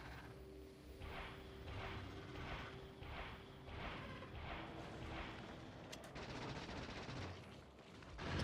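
Turrets fire in Factorio: Space Age, a run of rhythmic, evenly spaced bursts of rapid shots over a low rumble, fairly quiet, ending in a denser, continuous stretch of fire.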